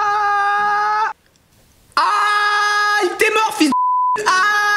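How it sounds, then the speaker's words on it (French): Loud, steady censor beep tones blank out a French-speaking voice in a spicy-pepper challenge game, in several long bursts separated by brief gaps. "Tu mettras des bips."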